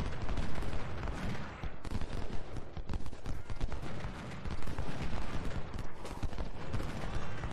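Dense, continuous musket and cannon fire in the Ultimate General: Civil War strategy game during the Battle of First Winchester, rapid overlapping cracks and rumbling volleys loud and unbroken, with no speech over it.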